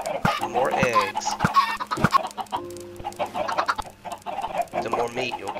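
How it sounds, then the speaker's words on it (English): Minecraft chickens in a farm pen cluck repeatedly, a dense overlapping cluster of near, fairly loud clucks with brief pauses, and no speech. "right now we have a lot of baby chickens in there that are going to probably grow up all near the same time"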